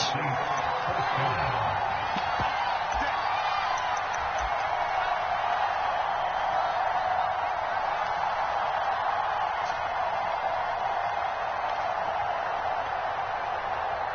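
Steady crowd roar from a stadium in an EA Sports football game played on PS4, with the Saints on the field. It holds at an even level for the whole stretch with no pauses and no clear spoken words.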